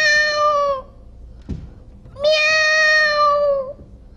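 Reader's voice mimicking a cat, giving two long, drawn-out meows separated by a short pause and a thump, loud and close with no other talk.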